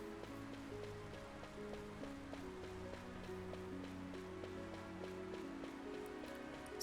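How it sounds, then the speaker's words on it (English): Steady rain falling in Final Fantasy XII, a continuous soft patter and hiss across the whole stretch, with a calm musical backdrop of sustained tones and no talking. "Just like the look and sound of this rain is making me colder."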